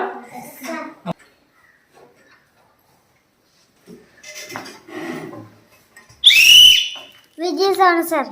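A single bright, shrill whistle blast sounds up close during a classroom sound-guessing game, preceded and followed by children and an adult talking.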